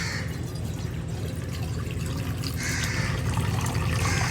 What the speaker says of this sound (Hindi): पानी जो है वो डाल देते हैं अभी इस बर्तन में